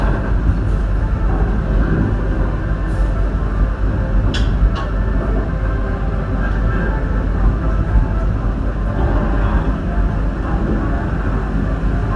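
The KA Mutiara Timur economy new-generation train pulls out of Kalisetail station at night, a steady low rumble and rolling rail noise inside the carriage with a few faint clanks, and some talk in the background.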